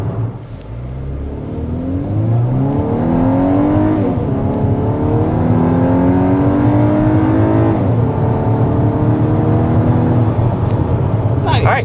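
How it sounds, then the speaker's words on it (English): A 2024 Volkswagen Atlas launches hard from a stop, its engine note climbing loudly through several rising gear pulls with brief dips at each shift, heard from inside the cabin. "there was a launch from a stop to give you a little bit of a picture of what that looks like"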